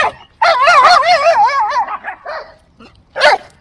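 Excited dogs yipping and howling in a wavering chorus up close, fading out, then one more loud burst of barking.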